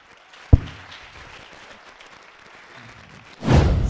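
An audience at a student talk breaks into applause only at the very end, after a single thump and a stretch of low room murmur.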